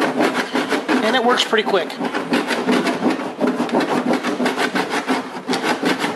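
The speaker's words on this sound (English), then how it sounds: "I'm going to come in with my metal file, my metal body file. File down the lead, just like you would Bondo." A metal body file is drawn across lead filler on rusted car bodywork around a gas cap door. Rapid, rhythmic rasping strokes repeat steadily up close, loud and continuous, while someone briefly speaks over it.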